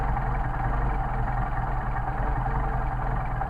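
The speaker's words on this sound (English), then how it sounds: "So we're going to hear the engine slow down or stumble" Mercedes 190SL engine running on Solex carburetors during idle mixture adjustment, a loud, close, steady low rumble that holds fairly even, with no clear stumble standing out and no talking.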